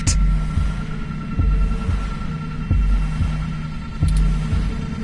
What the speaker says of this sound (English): Your heartbeat is like sonar to me. The louder it pounds, the faster I race to stop it.